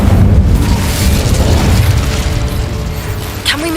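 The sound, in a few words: Incendio fire spell in Hogwarts Legacy video game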